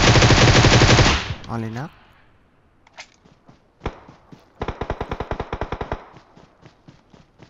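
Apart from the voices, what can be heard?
gunfire in the video game PUBG Mobile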